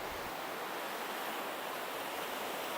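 Ocean surf washes onto a secluded surfer beach in Wakayama at sunset, a continuous broadband rush of waves heard from nearby, even and unbroken with no voices.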